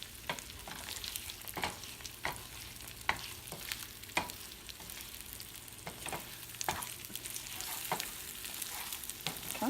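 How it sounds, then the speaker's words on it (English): Scrambled eggs with chorizo sizzle steadily in a pan as a utensil stirs, producing repeated sharp scrapes and taps at an uneven rhythm, close and moderately loud. "I'll just start kind of like mixing it up"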